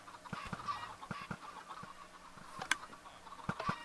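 Chickens cluck in a blocky Minecraft game world, with short scattered clucks and squawks spread through the stretch. They are fairly faint, and there is no talk over them.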